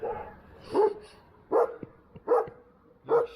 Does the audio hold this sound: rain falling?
no